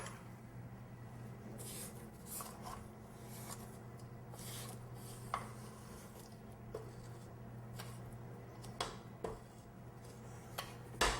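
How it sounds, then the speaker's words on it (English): A spatula scrapes around a mixing bowl of wet cookie dough ingredients with quiet, intermittent scraping and light clinks over a steady low hum. The sound is close but faint, with no talking. "I'm going to give this bowl a quick scrape."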